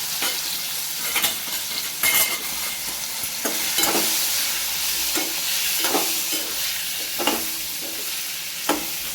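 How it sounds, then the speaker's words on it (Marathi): Drumstick pods, pre-cooked, frying in oil with chili powder and salt over low heat, a steady close sizzle broken by repeated stirring scrapes and clinks of a spatula against the pan, no voices. "तेल तिखट मिठामध्ये छान अशा फ्राय करून घ्यायचं"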